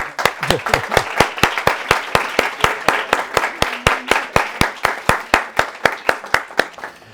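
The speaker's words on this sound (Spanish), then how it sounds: "Pido para Tomás un fuerte aplauso." Steady, rhythmic applause from a conference audience at an international congress on the European Union, continuous evenly spaced claps filling about seven seconds with no talking.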